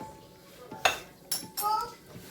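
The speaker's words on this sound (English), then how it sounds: "Give it a nice little stir" Meatballs in jalapeno cream sauce are stirred in a pan, giving three or four short, close clinks and scrapes of a utensil against metal over a quiet simmering background.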